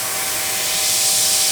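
An airbrush sprays paint onto a bike frame in a steady, close, breathy hiss that swells slightly louder partway through, with no voices.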